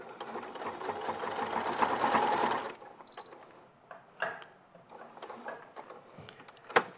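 A sewing machine runs steadily through a quilting project for nearly three seconds, then stops, leaving scattered soft knocks and handling noises.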